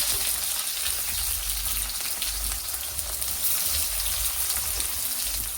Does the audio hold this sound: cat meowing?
no